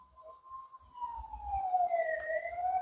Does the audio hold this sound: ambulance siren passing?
yes